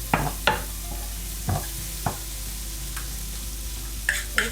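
Masala of red chili powder and turmeric frying for crab curry, a low steady sizzle broken by several sharp spoon taps and scrapes against the pan, no talking.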